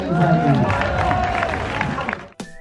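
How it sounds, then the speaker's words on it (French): A convention crowd claps and cheers after Absol's Pokémon match victory, a dense wash of applause under a host's continuous talk that stops abruptly near the end. "on peut l'applaudir les amis."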